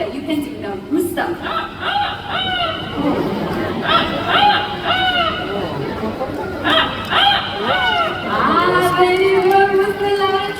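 An Amazon parrot imitates a rooster crow, giving several repeated, rising-and-falling crowing calls in bursts. Chattering sounds fill the background.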